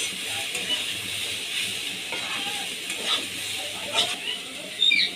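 Soybean chunks frying with vegetables in a pan for khichuri, a continuous soft sizzle and hiss with occasional sharper pops and spatters, steady and close.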